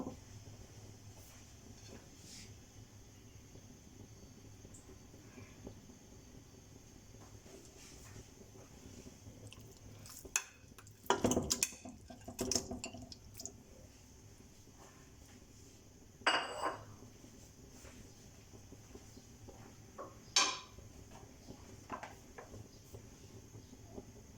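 Washed chicken being stirred in a cooking pot, with sparse, faint metallic clinks and scrapes of a utensil against the pot over a low background hum.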